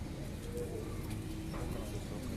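Pigeons coo softly on a rooftop loft among dense background noise, a low murmuring call that fades in and out without a clear separate rhythm.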